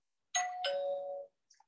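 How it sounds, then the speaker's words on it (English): A two-tone ding-dong bell chime rings once as a timer signal for a business networking presentation, clear and alone with a short faint tail afterward. "at 5 minutes, you will hear the bell ring like this."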